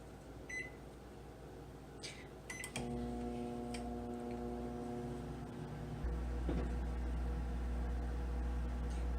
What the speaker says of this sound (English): Into the microwave it goes